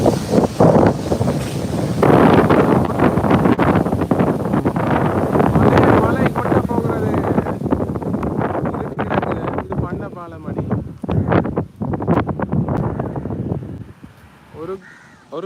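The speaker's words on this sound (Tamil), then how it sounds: "பார்த்தா காற்று அடிக்குது" Strong wind buffets the microphone in a steady, roaring rush beneath someone talking continuously, easing slightly toward the end.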